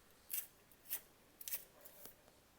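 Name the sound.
sharpening a dull pencil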